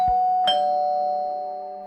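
A doorbell ding-dong rings out alone, two clear chime tones struck about half a second apart, loud and close, with the second tone ringing on and slowly fading.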